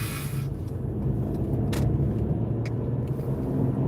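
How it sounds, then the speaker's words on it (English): Rush hour road traffic heard from inside a car, a steady low engine and road rumble with a few brief brighter swishes of passing vehicles, no talking. "it's rush hour traffic and I'm in the middle of it"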